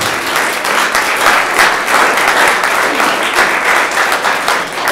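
Steady applause from a school board meeting audience, honoring a person named Maggie who stands to be recognized; dense, even clapping fills the room throughout without a break.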